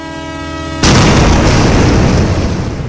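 A train at an unmanned railway crossing sounds a steady, harmonic horn, then a sudden loud, broadband crash as it strikes a motorcycle rider, followed by sustained rumbling noise.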